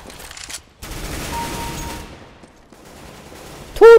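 AK rifle fire in Counter-Strike: GO, heard as bursts of rapid gunshots separated by short gaps, fairly loud and close, with no talking.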